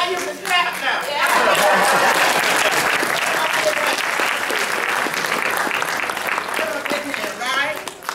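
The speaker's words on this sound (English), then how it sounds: "okay, now you can clap now." An audience at a book signing event bursts into sustained applause, dense and loud clapping filling the room from start to finish with no break.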